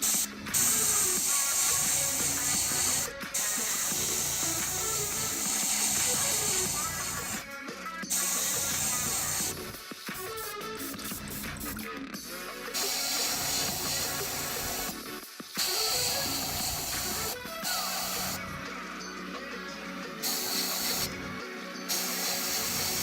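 Paint or coating is sprayed in repeated hissing bursts of several seconds each, separated by short pauses, fairly close and with no talk.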